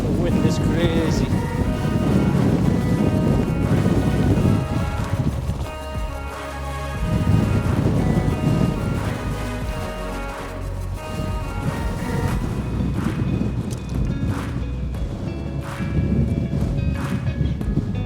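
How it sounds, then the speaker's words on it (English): Strong, gusty wind buffets the microphone on Skiddaw fell in the Lake District, a loud continuous roar that surges and eases in waves across the whole stretch, with a voice briefly talking over it. "The wind is crazy."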